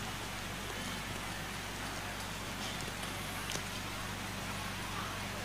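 Rain falling at night during an outdoor gathering, a steady dense hiss of drops with a constant low hum underneath, continuous and fairly loud throughout.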